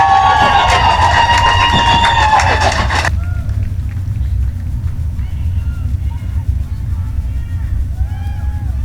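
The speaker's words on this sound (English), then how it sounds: "Give them a round of applause" A grandstand crowd at a dirt speedway applauds and cheers the A-Main winner after a weekly late model race, loud for about three seconds before cutting off, leaving quieter engine and track sounds.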